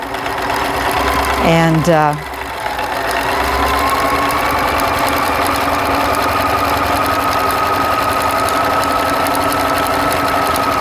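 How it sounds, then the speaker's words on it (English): Domestic sewing machine stitching around a fabric belt hums and chatters steadily, near and continuous, after a brief rising whir at the start, with a voice briefly heard. "just stitches all the way around."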